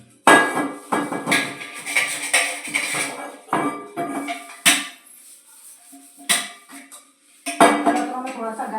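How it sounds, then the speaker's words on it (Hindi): Greasy steel pots and dishes are scrubbed and washed with hot water, with loud repeated clanks, scrapes and metallic knocks at close range in an uneven rhythm, with brief pauses between bursts. "बर्तनों में थोड़ा सा गर्म पानी डालना जरूरी होता है, तभी जाकर के साफ होते हैं बर्तन।"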